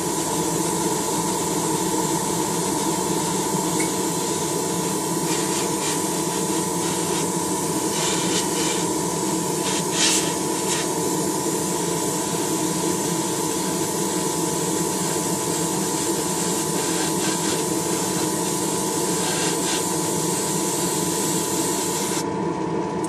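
A spray gun lays a color coat of paint on a small Honda car hood with a steady, close hiss that runs unbroken and even throughout.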